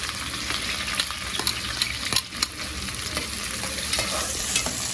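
Onions fry in plenty of oil with ginger-garlic paste and ground green chilli, giving a steady, close sizzle broken by scraping stirs throughout.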